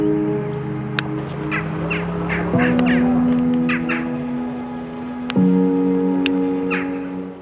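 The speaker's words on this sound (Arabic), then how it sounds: "هذا الطائر يشبه الغراب لكنه صغير" A small crow-like black bird calls from cave rocks, giving several harsh caws over a strong steady hum with sustained tonal drones that shift pitch twice.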